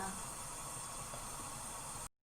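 Zucchini stew simmers in a pot with garlic and mushrooms, a steady soft hiss and bubbling that runs evenly for about two seconds and then cuts off abruptly.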